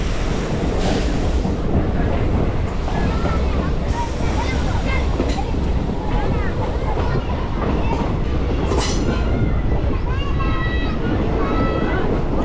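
A train stands at a low station platform on the Jalandhar to Sultanpur Lodhi line, with a loud continuous rumble and rattle throughout, squeals and whines rising near the end, and voices in the background.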